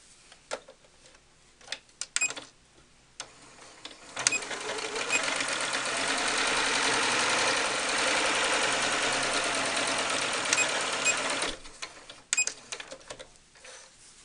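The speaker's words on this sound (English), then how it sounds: "So I'm just going to stitch around the edge." A sewing machine stitches hair onto the edge of a muslin cloth doll body, with scattered clicks and handling noises before and after a steady, close humming run of about seven seconds.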